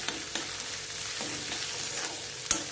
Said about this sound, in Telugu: ఇవన్నీ వేసేసి బాగా తిప్పుదాము బాగా ఫ్రై చేసుకోవాలన్నమాట